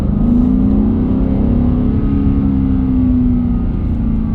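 A BMW G87 M2 drives with a loud, steady engine drone that rises slightly in pitch, heard from inside the car without talking.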